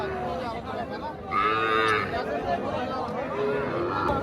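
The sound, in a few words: Sahiwal calf at cattle market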